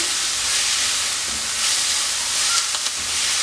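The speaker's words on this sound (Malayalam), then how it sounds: "ഒരൽപ്പം കറിവേപ്പില കൂടെ ചേർത്ത് കൊടുക്കാം ഇനി ഇത് നന്നായിട്ടൊന്ന് വഴറ്റിയെടുക്കാം" Onion and curry leaves sauté in a pan, giving a steady close hiss and sizzle with a few faint scrapes, no voices.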